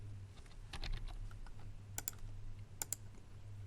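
Quick bursts of keystrokes on a computer keyboard as a name is typed into a web form, a few clustered taps followed by two sharper clicks, close and moderately quiet over a steady low hum.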